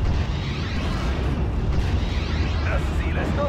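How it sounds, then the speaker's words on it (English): Artillery in Steel Division: Normandy 44 fires continuously, Nebelwerfer rockets and mortar rounds rumbling in deep, overlapping booms and blasts as a steady low roar of gunfire and explosions. "And boom goes the Ranger mortar."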